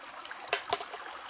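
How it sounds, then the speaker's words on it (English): Coconut water is poured into a blender as a soft, trickling stream, with two brief splashy gurgles standing out in the middle. "and pour some coconut water in here."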